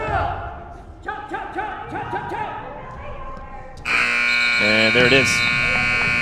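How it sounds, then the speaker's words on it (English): Round-ending buzzer at a high school wrestling match, a loud sustained electronic blare cutting in after bouncing gym sounds and an announcer's voice, then holding steadily to the end. "Buzzer sounds on round one, and Coconino hangs on to a 2-0 lead."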